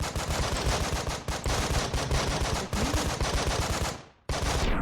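Sustained automatic gunfire from the tactical video game Breach & Clear, dense rapid bursts from many directions filling the clip, briefly dropping out near the end before the shooting resumes loudly.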